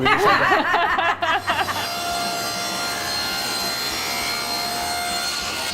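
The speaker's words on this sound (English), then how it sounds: "We're gonna keep on sanding." Steady, rough scraping of sandpaper on wood by hand, close and continuous, after a brief moment of voices and laughter at the start.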